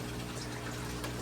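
A Hygger water change pump moving water, a steady low motorized hum with continuous rushing flow, close and unbroken throughout.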